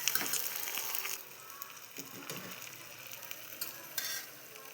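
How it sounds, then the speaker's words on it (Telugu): Tamarind frying lightly in a pan for fenugreek dal gives a quiet, steady sizzle with soft stirring scrapes throughout, and no one speaks. "లైట్గా ఫ్రై చేయండి"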